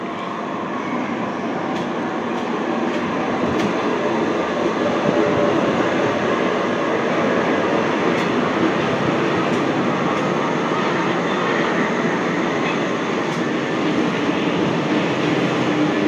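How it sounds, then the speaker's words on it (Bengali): A Kolkata Metro train bound for Dakshineswar rumbles past near Baranagar, a steady roar of wheels and carriages with light rail clicks, sustained and close throughout with no talking. "দেখুন সাইড দিয়ে আসছে মেট্রো, আসছে দক্ষিণেশ্বরগামী মেট্রো"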